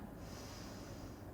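One soft, long exhale through the nose during a yoga pose, faint and close, with no speech.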